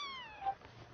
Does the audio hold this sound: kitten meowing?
yes